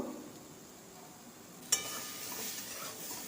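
Hog plum pieces fry in a pan with turmeric, a steady soft sizzle, and a sharp clink at a stir midway brings a louder crackle.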